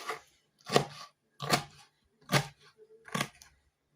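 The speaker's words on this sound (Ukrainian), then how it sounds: "я візьму моркву по-корейськи і трохи її подрібню, щоб вона була не такою довгою" Five distinct knife chops through Korean-style carrot on a board, spaced roughly evenly and fairly soft, with quiet pauses between them and no talking.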